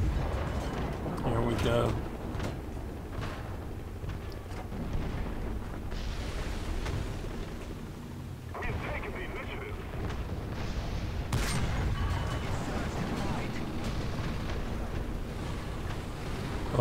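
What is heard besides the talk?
tank cannon fire in video game War Thunder, Panzer III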